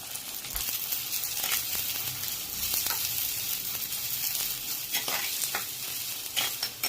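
Onions sizzle and crackle as they are stirred in hot oil with popped mustard seeds and curry leaves, a steady close frying hiss with scraping stir sounds throughout.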